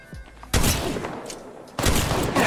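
Rapid gunfire in a video game shooter: a dense, loud volley of shots rattling for about a second, a short lull, then another sustained burst close up, with no talk over it.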